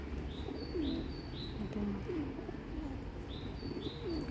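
Several low, rolling pigeon coos repeat over steady outdoor noise, joined by occasional short high bird chirps in the distance.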